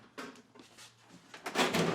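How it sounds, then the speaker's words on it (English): A loose drawer suddenly letting go in a garage during taillight work on a 2020 Dodge Challenger, a few scraping, rattling knocks followed by a louder clattering slide near the end. "It's in this drawer that just let go."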